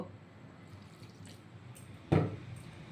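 A single brief splash of water lands in batter for home-made paneer fry, following a quiet stretch of faint background noise.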